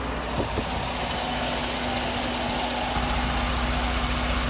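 A 2018 Freightliner Cascadia truck with an exhaust problem idles steadily up close, giving a constant low engine rumble with a faint hum and no talking.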